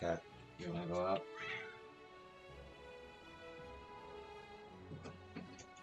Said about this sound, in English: Here, cat, you wanna go out?